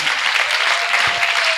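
Loud, dense audience clapping at a success summit, close and steady for the whole short stretch, with no pause and no voices standing out.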